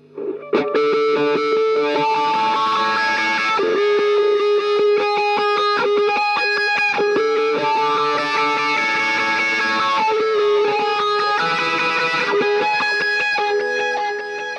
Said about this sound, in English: I'm playing a pretty heavy overdriven sound with a wah part